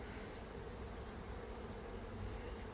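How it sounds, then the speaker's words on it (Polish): A small honeybee swarm circles over an apiary, a faint, steady buzzing hum that fills the air evenly with no voices. "Tak jakby wyleciał nieduży rój i teraz wracał."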